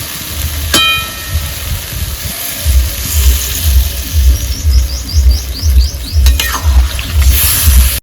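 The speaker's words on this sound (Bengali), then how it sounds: "আমার সর্ষে বেশিক্ষণ ভাজতে নেই বেশি ভাজলে পরে ছোটো হয়ে যায়" Mustard seeds fry in a pan for a spicy small bata fish jhal with potato, eggplant and radish, giving a steady crackling sizzle with scraping stirs and a few sharp clinks, close and fairly loud, with no talking.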